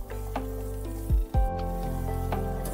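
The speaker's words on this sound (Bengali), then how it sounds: "মশলাটা ভালোভাবে নাড়িয়ে চাড়িয়ে দিয়ে" Masala pumpkin sizzles loudly in a pan while being stirred, a continuous close frying hiss broken by a couple of sharp scraping stir strokes, no talking.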